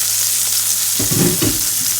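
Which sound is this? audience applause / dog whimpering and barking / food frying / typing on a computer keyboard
food frying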